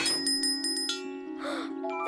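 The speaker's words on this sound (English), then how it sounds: "I've got Percy's lucky bell." A small lucky bell in a Thomas & Friends All Engines Go cartoon rings in several quick bright dings near the start, followed by a cartoon voice and music.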